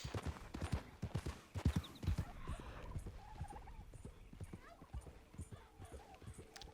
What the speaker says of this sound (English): Turkeys are laughing at me.